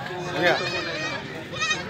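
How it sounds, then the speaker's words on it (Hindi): A goat bleats at a livestock market, a wavering cry rising over crowd noise, with people talking around it. "ये देखें बच्चों वाली बकरी खड़ी है"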